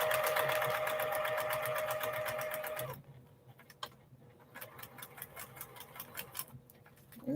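A sewing machine runs in a fast rhythmic chatter while stitching quilt block pieces, loud and steady at first, then continuing in softer, uneven bursts.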